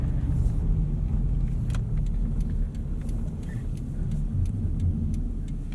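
Subaru BRZ on skinny tires driving through deep snow on a winter driveway, holding a little wheel spin: a constant loud low engine and tire drone with faint scattered ticks, and no talking.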